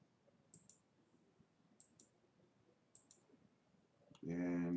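A computer mouse clicking during drafting work: faint, crisp double clicks spaced about a second apart over quiet room noise, then a louder burst of other sound at the end.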